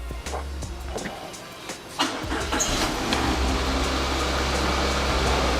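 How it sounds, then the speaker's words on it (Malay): A car engine cranks and catches, then settles into a steady, loud idle that runs to the end, heard while checking the radiator fan. "anda perlu start enjin kereta anda"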